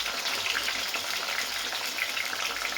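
Tomatoes added to very hot oil alongside already-wilted okra for a ladies finger curry sizzle with a steady, dense hiss that holds at an even, fairly loud level throughout, with no voices over it.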